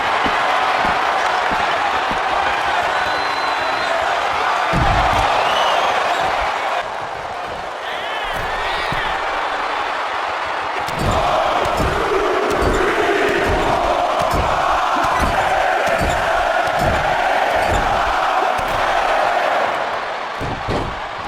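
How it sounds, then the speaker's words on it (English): Wrestling arena crowd in the video game WWE 2K24 during a Money in the Bank match, a steady roar of cheering filling the whole stretch, punctuated by repeated heavy thuds and slams from the ring. "crowd is on the edge of their seats as the match intensifies"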